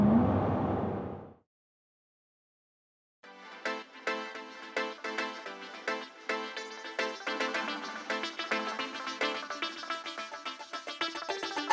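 A Jaguar F-Type R75 convertible accelerates hard on a country road, its engine rising in loud pulsing surges through successive gears after a short quiet pause, preceded by a brief burst of sound.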